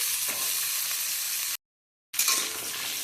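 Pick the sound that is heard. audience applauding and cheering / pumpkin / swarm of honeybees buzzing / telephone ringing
pumpkin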